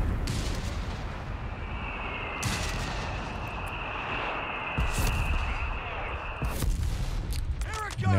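Mortar and artillery fire in the World War II strategy game Company of Heroes 3, with repeated distant booms and impacts over a battlefield rumble, a whistling shell tone and a voice talking underneath.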